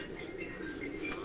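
Pigeons coo softly in a short, faint burst, low murmuring calls over a quiet background hum.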